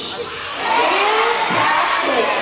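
Schoolchildren cheer together at an elementary school morning assembly, a loud crowd of young voices rising into a sustained, excited shout that swells after a brief start and carries on without pause.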